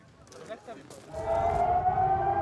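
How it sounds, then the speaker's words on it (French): A rocket alert siren wails over a town in northern Israel, rising after about a second into a loud, steady, sustained tone, with softer noises and faint voices before it. "Sur les villes du nord d'Israël, les sirènes hurlent 20 fois par jour."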